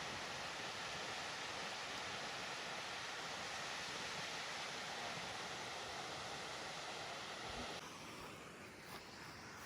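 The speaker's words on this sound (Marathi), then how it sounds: "तर चला मित्रांनो, आपण त्या धबधब्याजवळ जाऊ. मस्त एकदम छोटासा सुंदर असा आहे." Small waterfall in a dense jungle, a faint continuous rushing hiss of falling water, steady throughout with a slight drop near the end.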